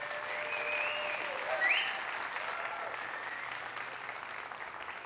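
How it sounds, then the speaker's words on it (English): Audience applause at a futurist blockchain talk in Canada, a moderate, even wash of clapping heard from a distance, with a faint whistle rising briefly near the start. "So can we please give them a big round of applause and encourage them?"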